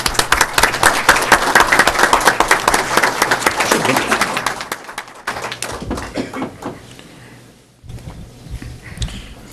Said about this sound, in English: And clapping in the back.